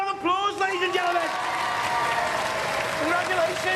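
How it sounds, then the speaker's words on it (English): A studio audience at a robot combat show claps and cheers in a sustained burst under a voice talking over the top, the noise holding steady through the end. "Give them a round of applause, ladies and gentlemen."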